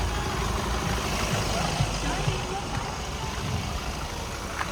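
A running motor vehicle engine, truck number 3464, hums and rumbles steadily close by on a road trip, a constant low drone with small bumps and no clear break.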